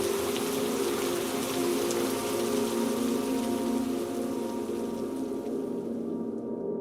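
Steady rain falls without a break, a dense even hiss of drops on surfaces holding at the same level throughout with no voices.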